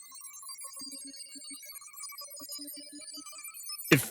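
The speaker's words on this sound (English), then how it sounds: "you get this kind of weird sound, which sounds a lot like the SRV scanner in Elite Dangerous." A synth patch in the style of the Elite Dangerous SRV scanner gives shimmering, bell-like electronic tones with stuttering low blips, then a sharp bright burst at the end, close and clean.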